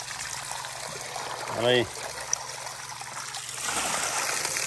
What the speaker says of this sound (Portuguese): É um mijolinho, gente, só para dar um oxigênio pros peixes aí